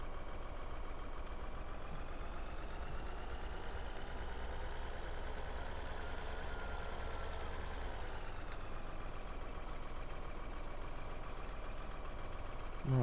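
Tractor engine in Farming Simulator 2013, fitted with a front loader and pallet fork, drones at a steady mid-pitched hum and rumble throughout, even in level and close, with a brief rise in tone and no talk.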